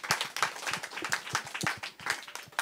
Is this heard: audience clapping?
yes